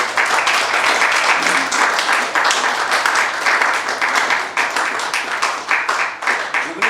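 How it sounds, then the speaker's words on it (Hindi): A theatre audience claps loudly for performers called onto the stage after a play, a full and steady ovation that continues throughout with no break. "एक बार जोरदार तालियों से।"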